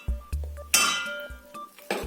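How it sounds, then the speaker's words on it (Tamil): A metal lid lifted off a cooking pot of kambu koozh (pearl millet porridge) in a village kitchen: a few sharp metallic clinks and knocks, one louder ringing scrape in the middle, close and clear with no voices. "மூடி இப்போ ஓப்பன் பண்ணிக்கலாம்."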